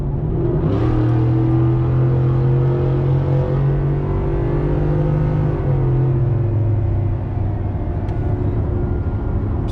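A Ford 5.0 V8 truck exhaust rumbles and roars as it accelerates, a loud, steady low growl rising in pitch, then easing off.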